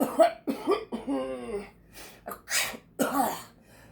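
A voice acts out a string of coughs, a sniffling breath and a sneeze, close and in short bursts.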